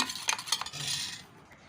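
A spoon stirs curd in a bowl to smooth out lumps, giving a few quick scraping clinks against the bowl followed by a softer, steady swish, close and fairly quiet with no talking.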